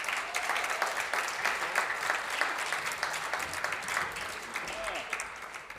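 Warm applause from the audience at a music concert celebrating a magazine issue launch, steady dense clapping that continues evenly throughout without a break.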